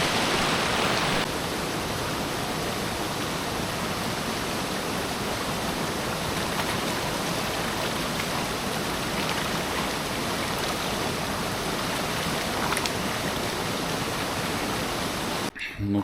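A mountain stream in Andorra runs steadily, its broadband rush of water holding an even, close, continuous level throughout with no voices over it.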